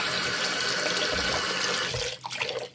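Water runs steadily from a kitchen or sink faucet with hot and cold taps, a continuous close splashing stream that is cut off near the end, leaving brief handling noises.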